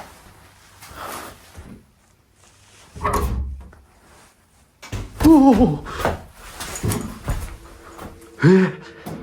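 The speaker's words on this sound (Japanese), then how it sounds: "この扉今閉まった。" A door in a supposedly haunted triangular house closes with dull thunks and creaking, latch-like clatter in several separate bursts, with people speaking between them.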